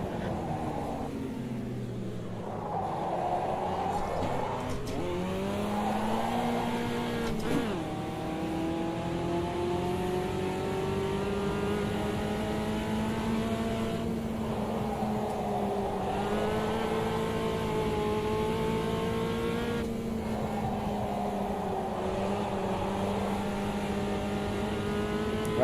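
Racing video game car engine drones and revs continuously, with gear shifts and pitch swings as the car brakes and accelerates through corners, steady and close throughout.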